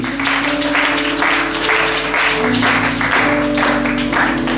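A church congregation applauds and cheers for the Lord, loud sustained clapping filling the room over steady held musical tones.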